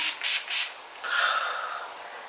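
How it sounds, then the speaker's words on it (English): An Urban Decay All Nighter setting spray bottle gives three quick close hissing pumps in a row, then a longer softer misting hiss, with quiet pauses between. "I want to spray a little bit of setting spray. This is the Urban Decay All Nighter Spray."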